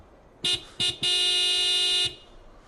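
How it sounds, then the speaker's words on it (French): A repaired van horn in the video game Broken Sword 5 blares three times: two short toots followed by a long, steady honk of about a second, loud and close, with no talk. "nous avons réparé votre klaxon"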